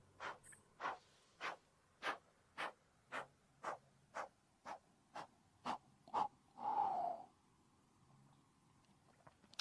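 Slow, deep breathing during a posture-correction exercise session: around a dozen evenly spaced audible breaths close to the microphone, followed by one longer, louder exhale, then quiet.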